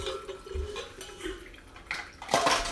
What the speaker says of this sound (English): Pour out my water.